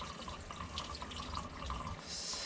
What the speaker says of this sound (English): That's all going in my catch pan, but look at all that coolant.